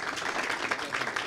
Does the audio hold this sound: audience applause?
yes